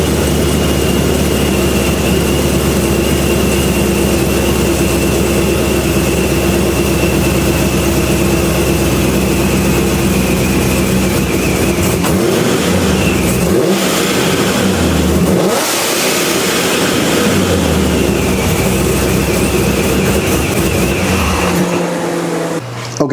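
Supercharged C6 Corvette with a louder blow off valve, its engine revving hard and droning steadily up close, with rising and falling throttle sweeps and sharp releases near the end.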